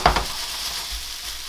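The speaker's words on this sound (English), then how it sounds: "And we'll throw in the capsicums and the onions. And we'll cook these for about five minutes." Capsicums and onions hit a hot pan and start frying, opening with a quick clatter and burst, then settling into a continuous close sizzle.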